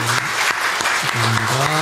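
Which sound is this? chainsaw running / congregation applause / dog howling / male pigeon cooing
congregation applause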